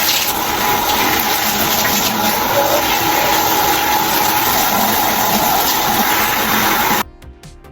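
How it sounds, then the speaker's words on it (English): Shower water runs steadily while hair is washed, a dense continuous spray that stays loud and even before cutting off abruptly near the end. "So I'm going to wash my hair right now in the shower."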